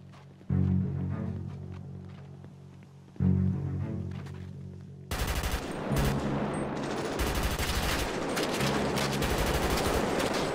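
Gunfire in GTA roleplay rings out: two heavy single shots, then sustained rapid automatic fire with dense bursts continuing to the end.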